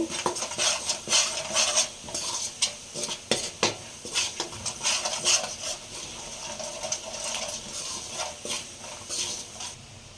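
Sambar powder and spices sautéing in oil for a Karnataka badanekayi ennegayi (stuffed brinjal) curry, with a spoon scraping and clinking against the pan in busy, irregular strokes over a faint sizzle, close by and with no talk.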